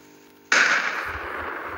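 A firecracker goes off with one sudden, loud blast after quiet, then a noisy tail that fades slowly over the next second or so, with no voices heard.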